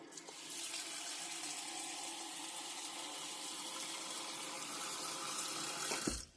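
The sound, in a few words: water from tap filling a sink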